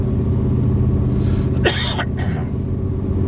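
A single short cough, close and distinct, cuts through a steady low rumble of background noise.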